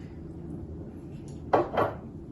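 A pot of black borscht with bay leaf and allspice is stirred over a low cooking hum, ending in two sharp scraping clanks of a spoon against the metal pot.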